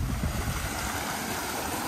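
Water runs beside a road through Cades Cove on a vehicle-free day, a steady broadband rush of flowing stream and small falls heard close and continuous, with no voices over it.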